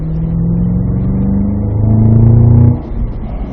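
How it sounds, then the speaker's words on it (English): A Cadillac CT5-V Blackwing accelerates in fourth gear down a racetrack straight, its engine droning loud and close with a rising pitch that swells, then abruptly drops away near the end. "steering a little sooner there, Jack, as you're accelerating down the back, fourth gear."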